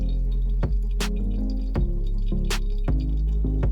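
Raw almond milk drips slowly through a very fine mesh MioMat strainer, with irregular soft drips landing close by over a steady low hum.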